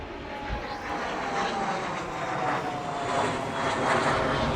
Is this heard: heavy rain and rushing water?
no